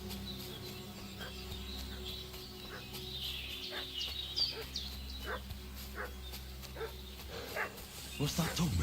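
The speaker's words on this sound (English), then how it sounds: "What's that dog making such a fuss about?" A dog barking in the video game Kingdom Come Deliverance 2: repeated barks and yips at a moderate distance, over quiet ambient game sound with birds.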